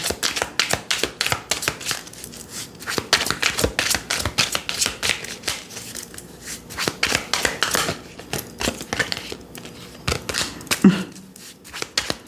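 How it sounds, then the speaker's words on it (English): Tarot cards shuffled repeatedly at close range, a rapid riffling patter of crisp slaps and flutters that keeps going with short pauses. "This little deck is kind of trying to shuffle here."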